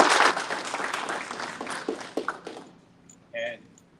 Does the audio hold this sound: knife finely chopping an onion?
no